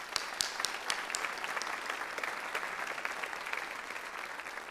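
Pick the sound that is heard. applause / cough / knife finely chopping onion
applause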